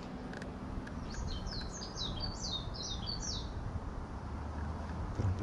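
A white-eye (pleci) bird sings on a mountain in Japan. A quick run of high, bright chirps comes through the middle of the clip, moderately close, over a steady low outdoor rumble.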